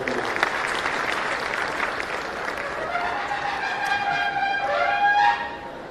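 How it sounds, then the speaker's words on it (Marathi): Sustained applause from an audience at an inauguration ceremony for an MSME technology centre in Sindhudurg, Konkan, a dense steady clapping that swells toward the end with some crowd noise mixed in. "मी सर्वांना विनंती करतो की त्यांचं जोरदार टाळ्या वाजवून स्वागत करा."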